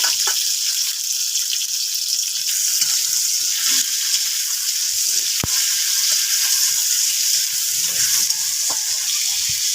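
Chopped tomato fries in a pan, giving a steady, loud hissing sizzle with occasional soft stirring clicks and scrapes, and no talking.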